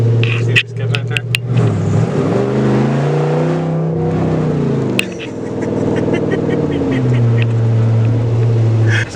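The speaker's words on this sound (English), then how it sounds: "This sounds like a diesel school bus on steroids" A truck with a 5.7 Hemi V8 and aftermarket exhaust revs loud and close with a deep, droning tone, the pitch rising and falling across repeated revs and holding steady at a heavy idle.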